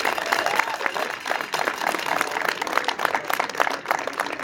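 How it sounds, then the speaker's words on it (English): Audience applause at a freedom convention in Edmonton, a steady wash of many hands clapping throughout, fairly loud and continuous with scattered louder claps, no talk over it. "Can we please give them a round of applause"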